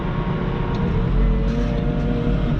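A New Holland T4 tractor pulling a topper drones steadily while doing field work in a small paddock, a continuous low engine rumble heard close with no talk.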